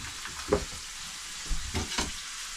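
A small piece of butter frying in a pan, giving a steady sizzle with a few louder crackles and scrapes as it is stirred, close and alone.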